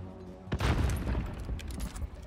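Grenade blasts in a shooter video game, one heavy boom followed by a rumbling, crackling spread of debris and smaller bursts nearby.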